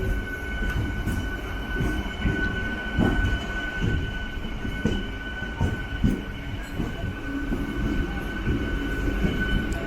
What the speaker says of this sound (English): It's a WDG 3A Ernakulam diesel loco shed 14665.